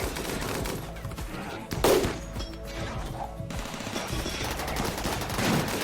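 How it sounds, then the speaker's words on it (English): Gunfire in the Rimworld video game as colonists shoot at turrets on a polar bear map: a dense rattle of repeated shots runs throughout, with a louder burst near two seconds, under a steady game background. "Shooting at the turrets."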